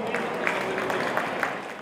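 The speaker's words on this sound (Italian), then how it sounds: "ancora un applauso" An audience at a members' festival applauding the runners-up of a competition: soft, distant clapping spread through a crowd, steady with a few sharper claps, under a murmur of voices.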